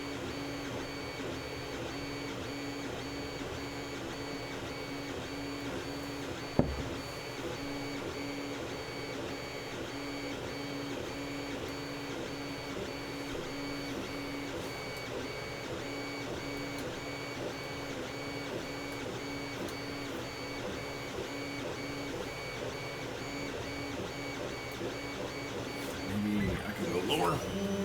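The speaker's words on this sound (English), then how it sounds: "I haven't heard the noises in 3D printer in a while." A Creality CR-10S 3D printer runs steadily at close range, its stepper motors whirring and buzzing in a continuous patterned drone, with a single sharp click partway through and a brief clatter near the end.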